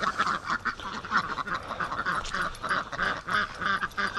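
A flock of Pekin ducks quacks steadily in a dense, overlapping chorus on a morning rush toward a lake, the calls close and fairly loud with no voices over them.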